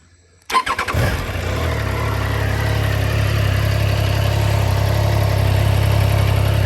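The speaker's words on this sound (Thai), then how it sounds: "เดี๋ยวเรามาฟังเสียงเครื่องยนต์กันสักนิดว่าเป็นอย่างไร รถไทอัมต้องกำคัชก่อนสตาร์ทนะครับ กำคัชก่อนนะครับ แล้วก็กดสตาร์ท" A Triumph Tiger Sport 660 touring motorcycle is started up close: a brief starter crank catches into a loud, steady, smooth engine idle that holds to the end.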